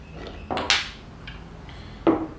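A spoon gives a Japanese whisky highball a small stir in a glass, with a couple of close clinks and taps against the glass in a quiet room.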